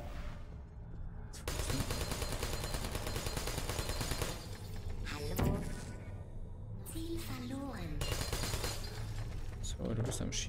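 Portal 1 turrets firing in a video game, dense rapid bursts of gunfire running loud and nearly continuous, with a player talking over the shooting.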